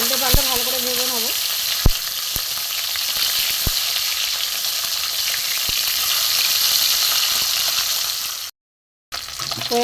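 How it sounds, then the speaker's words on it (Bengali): Bata fish fry in hot oil while being turned over, a loud steady sizzle broken by occasional sharp clicks and knocks and a faint voice near the start, then a short gap of silence near the end. "উল্টে পাল্টে ভালো করে ভেজে নেবো।"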